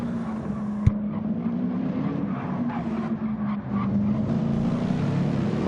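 A Porsche race car engine drones at the Nürburgring 24 Hours, a steady mid-distance tone that climbs slightly in pitch, with a sharp click near the start and faint trackside noise beneath.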